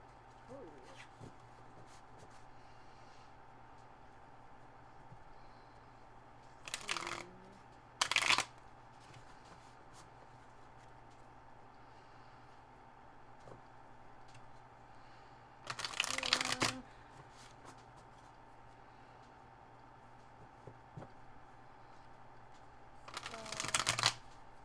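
Tarot cards being shuffled in four short riffling bursts spread apart, each a quick crisp flutter of stiff cards over a quiet room hum, close to the ear.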